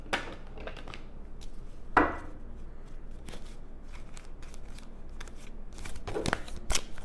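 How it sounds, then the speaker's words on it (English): Cards riffled and shuffled in several quick bursts, with sharp flutters and light taps against a soft, steady background; no one speaks. "Okay, we're going to shuffle them 3 times."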